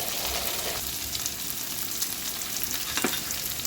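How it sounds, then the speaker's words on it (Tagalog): Pinakbet vegetables with sigang chili sizzle in a frying pan as they are stirred, a steady hiss of frying running through with a couple of soft scraping sweeps, and no talking. "Haluin lang po natin."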